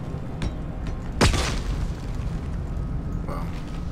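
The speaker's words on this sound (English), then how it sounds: "I can throw ourselves a little bit of a grenade" A grenade detonates in the video game Mass Effect 2: one sudden, heavy boom that quickly dies into a rumbling tail over low, steady background noise.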